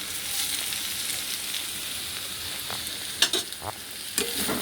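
Ghee sizzles steadily in a pan with banana flower and prawns, a continuous close frying hiss with a few sharper spatters and stirring clinks near the end.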